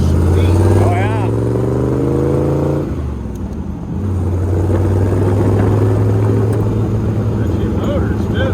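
A rat rod car's engine drones low and steady from inside the cab while driving, with a short lull midway before the rumble returns; people talk over it.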